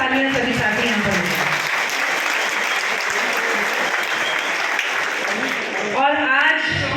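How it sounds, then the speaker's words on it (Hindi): A crowd at a thank-you gathering for a member of parliament breaks into loud, sustained applause, with voices rising over the clapping toward the end. "हमारे माननीय सांसद जी के लिए जोरदार तालियां सभी साथी यहाँ पर"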